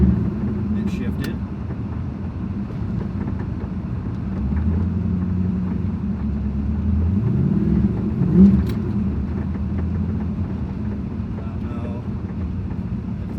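Old Corvette barn find, driven after a decade of sitting, rumbles steadily as it drives and shifts, with a low engine drone, a brief rise in revs midway and wind buffeting, under occasional talk.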